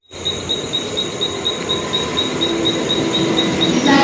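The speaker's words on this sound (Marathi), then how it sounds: "ट्रेन आली गाईज आपली, चला बघूया।" Loud, steady rumble of a train arriving at Lokmanya Tilak Terminus station in Mumbai, close by, with a high ringing tone and rising squeal of wheels toward the end.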